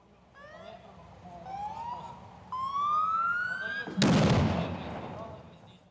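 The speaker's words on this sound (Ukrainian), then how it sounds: "Цей вибух був необхідний для запобігання утворення льодового затору." Rising whistling tones sweep upward, then a single loud explosion on river ice, set off in a training exercise to prevent an ice jam, bursts out and decays into a fading rumble.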